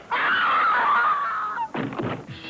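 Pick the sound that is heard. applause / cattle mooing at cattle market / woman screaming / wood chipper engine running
woman screaming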